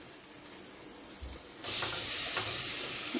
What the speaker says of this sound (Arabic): حطيت هنا الاول حبة من الزيت وبعد كده نزلت عليهم بالبصل